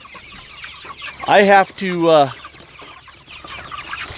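Chickens on an urban micro farm let out a couple of loud, close clucks in quick succession, with a person talking nearby before and after.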